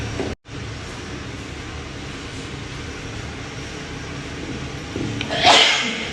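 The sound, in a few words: sneeze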